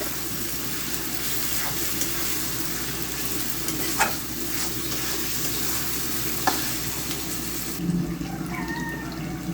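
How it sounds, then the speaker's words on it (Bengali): Dried hilsa fish being stirred and fried in a pan: a steady close sizzle with occasional scraping knocks of the utensil, continuous throughout with no talk. "এইটার সাথে আমি এবার শুটকিটা মানে ইলিশ শুটকিটা দিয়ে দিব একসাথে কষে যাবে"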